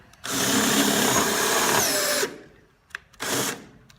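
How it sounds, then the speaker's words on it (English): A power drill whirs loudly for about two seconds, then stops; a click follows and a second short burst of drilling, close by, as holes are drilled while installing an air dam on a BMW 2002. "I'll pull every other one and drill them out so that it stays in alignment"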